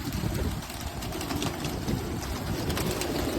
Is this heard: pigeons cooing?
yes